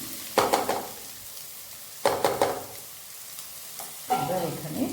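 Ragi soup with vegetables being stirred in a pot, three distinct bursts of scraping spoon strokes with a gentle simmer between them, close and moderately loud, no talking.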